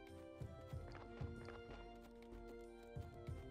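Horse hooves clip-clop faintly in the video game Graveyard Keeper, a steady string of soft, evenly spaced clops layered over quiet in-game ambience.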